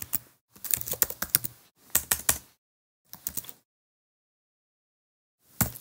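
Computer keyboard typing while entering HTML code, in four short close bursts of rapid key clicks separated by pauses and a longer silence before the last burst.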